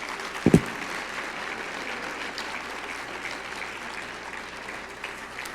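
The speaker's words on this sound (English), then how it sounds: "Please give them a round of applause." An audience at a Washington D.C. HistoryMakers salute applauding honourees, steady sustained clapping filling a large hall, with a couple of sharp nearby claps at the start.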